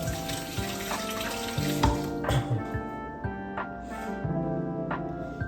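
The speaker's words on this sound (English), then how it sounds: "so let me wash my hands and we'll get to that." Kitchen tap running steadily as hands are washed under it, a continuous close splashing wash with a few brief clatters, no talk.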